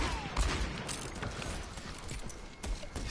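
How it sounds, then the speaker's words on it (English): Rapid pistol shots from McCree in the video game Overwatch, crackling bursts layered over busy game noise with scattered sharp cracks throughout. "He uses his pistol."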